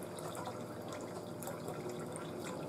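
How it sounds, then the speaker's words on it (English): Water sputters and gurgles with air from a Frigidaire refrigerator dispenser while a new Pure Source Ultra ULTRAWF filter is flushed, a steady, close, continuous splashing rush into a container. "you can see the water is still sputtering out"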